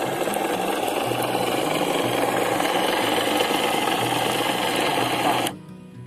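A miniature truck winch machine motor runs steadily up close with a loud, even mechanical whir, then cuts off abruptly just before the end.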